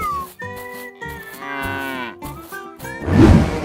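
A cartoon cow moos several times in drawn-out tonal calls, clear and close, followed by a noisy rough burst at the end.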